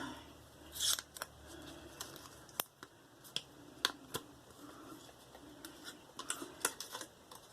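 Paper wrapper around a Feather razor blade being handled and unfolded, giving a run of sharp crinkles and small clicks at close range, loudest near the start and again toward the end, with no talking.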